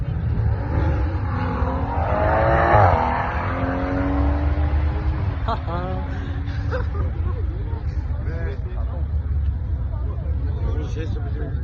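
BMW M140i with a B58 engine drag racing a Golf GTI at the Hart Voor Auto's event in Breda, with a loud engine accelerating hard early on, then cars and crowd babble under continuous talking.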